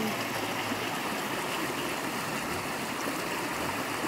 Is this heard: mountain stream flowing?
yes